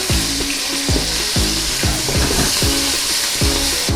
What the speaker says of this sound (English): 3 teaspoons of garlic puree would be next. We're gonna give it a little stir.